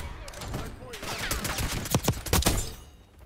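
Rapid gunfire from a gun in the Black Ops 6 video game crackles in several quick bursts, sharp close shots piling up in the middle and fading out, with a voice talking over the start.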